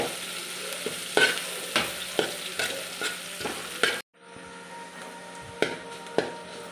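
A spiced mixture for colocasia-leaf patrode frying in a pan, a steady sizzle punctuated by rhythmic scraping stirs roughly every half second, then quieter after a sudden drop with a few more scrapes.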